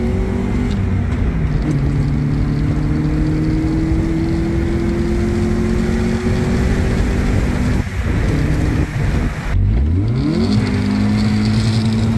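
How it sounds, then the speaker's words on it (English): A 220,000-mile Mazda Miata engine revs hard and loud from up close. Its pitch climbs steadily for several seconds, dips briefly, then rises again with a strained, sustained drone and no talking. "I think we found the rev limiter"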